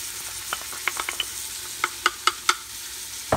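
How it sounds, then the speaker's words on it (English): Chili vegetables with tomato paste, salt, cinnamon, smoked paprika and cumin being stirred in a pot, with a soft sizzle beneath a string of sharp spoon scrapes and taps against the pot, close and unvoiced. "I'm going to continue to stir that for about 3 minutes until those vegetables start to soften"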